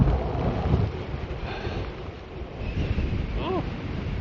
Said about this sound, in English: I can hear the wind in my ear.